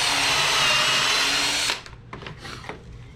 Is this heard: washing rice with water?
no